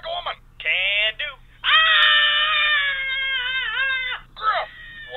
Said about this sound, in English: Scream like a woman!